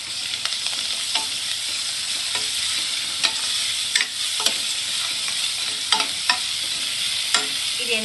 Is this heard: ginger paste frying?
yes